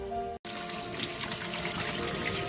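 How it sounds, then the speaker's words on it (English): Boiled ackee strained in a kitchen sink, water draining and trickling steadily with a brief gap near the start, close and continuous with no talking. "But I strain my ackee out."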